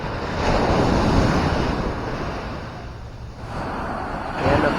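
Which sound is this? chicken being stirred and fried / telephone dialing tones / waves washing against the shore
waves washing against the shore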